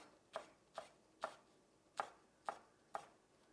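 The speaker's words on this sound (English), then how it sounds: "I'm going to add some fresh basil that I'm going to just chop up fairly fine." Fresh basil chopped fairly fine with a knife: six crisp, evenly spaced chops at a steady pace, close and clear against a quiet kitchen background with no talking.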